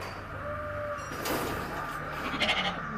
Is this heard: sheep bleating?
yes